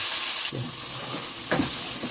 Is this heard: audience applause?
no